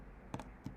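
Keys clack on a custom computer keyboard, a few quick close clicks in two small bursts over low room noise.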